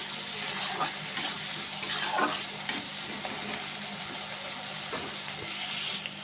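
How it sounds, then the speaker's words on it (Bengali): Water from a tomato bowl is added to a spiced potato masala for Bengali coconut aloo dum. It sizzles and hisses steadily in the pan, close up, with soft stirring scrapes and no talking. "একটু জল দিয়ে দিলাম, ওই টমেটোর বাটিতে জল নিয়েছি,"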